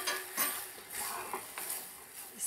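Flour is stirred into melted margarine in a pan for ranginak, giving soft scraping strokes and light clinks over a faint sizzle, close and without talk.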